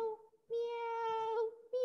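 Children's voices imitate a cat meowing in an English class for kindergarteners, giving two drawn-out, tonal meows, the first short and the second long, then a third beginning at the end, close and clear.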